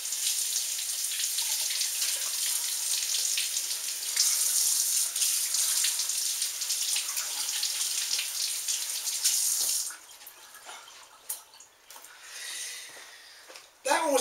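Tap water runs steadily over a halved leek being rinsed, a bright continuous splash that cuts off abruptly, leaving quieter drips and small handling sounds afterward.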